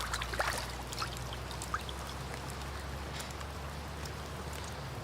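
Water poured and trickling over a freshly gutted trout at a primitive campsite, a steady wet splashing stream with brief drips and dribbles, close and continuous, no talking.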